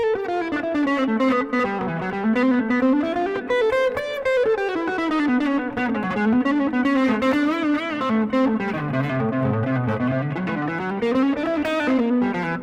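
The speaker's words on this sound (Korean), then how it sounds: "빠른 곡에서는 완전히 뭐 좀 약간 드라이하게 하죠. 리버브만 걸고." Fast electric guitar playing with only reverb and an otherwise dry tone, a continuous busy run of notes that stays loud and steady, alone without any talk.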